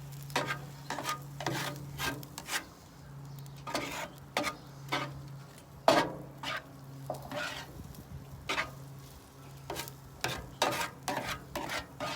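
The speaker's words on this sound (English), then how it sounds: "we're going to bring our rice back over to the mixture. We're going to get that all incorporated in there" Stirring cooked rice into a fried rice mixture for Hawaiian fried rice: repeated scraping and rubbing strokes of a utensil against the pan in irregular bursts, with a steady low hum running underneath.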